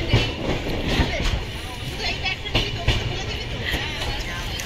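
A passenger train travels from Kolkata toward Kashmir through snowy country, heard from inside: a constant rumbling roll with repeated wheel clacks and thumps, loud and close, with faint voices murmuring in the carriage.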